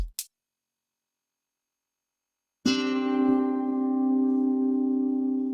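After a brief click and a pause, a single sustained sus2 chord rings out clearly and holds, slowly decaying.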